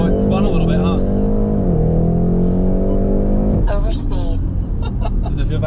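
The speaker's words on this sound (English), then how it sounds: "I'll see if we just launch it right here" Nissan R32 Skyline sedan launching from a standstill with tires spinning, engine revving hard and climbing in pitch, a brief dip, then rising again close by, with talk inside the car over the engine.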